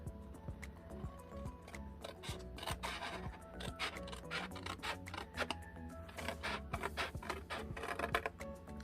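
Scissors cut through paper for a Christmas paper clutch, a quiet close series of crisp snips and rustles in an uneven rhythm.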